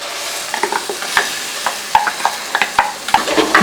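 Spice powders sauté in hot oil for butter bean kurma, giving a steady close sizzle. Repeated scraping clicks of a spoon stirring against the pan punctuate it throughout.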